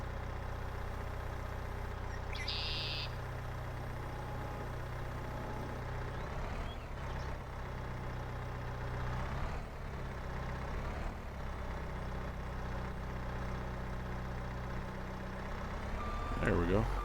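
A Manitou telehandler in a farming game rumbles with a steady low engine drone, and a brief burst of high reversing beeps sounds early on; a voice talks quietly in the background.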